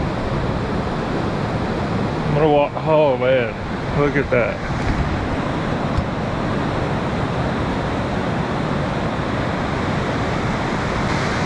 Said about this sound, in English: Tell me that ain't some water moving